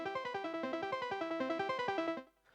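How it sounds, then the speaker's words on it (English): A bright synth arpeggio from the Arcade Softened Edges Pop Underground pack, rapid evenly spaced notes stepping up and down in a repeating pattern, clear and upfront with no voices, cutting off abruptly near the end. "And then we've got this ARP, which is from Arcade as well, which is from the Softened Edges Pop Underground pack"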